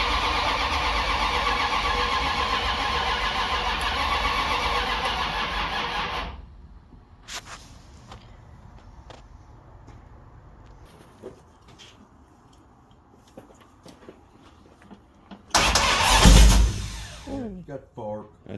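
A Mopar W2 340 V8 in a car cranks loudly and steadily for several seconds, then drops to quieter rumbling and clatter before a sudden roaring burst as it fires.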